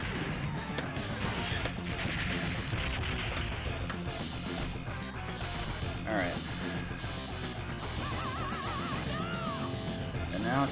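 Gunfire and explosions pound a tank in the arcade game Shock Troopers 2nd Squad, a dense, continuous barrage of shots and crashes mixed with synth game music, while a player talks over it.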